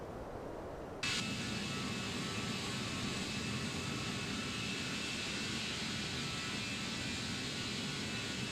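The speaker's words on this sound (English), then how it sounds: "I heard another plane." Broadband jet roar of another airliner passing in the X-Plane 12 flight simulator at cruise altitude, a steady loud wash of engine noise that swells in abruptly after a second of quieter cabin hum and holds without any talk.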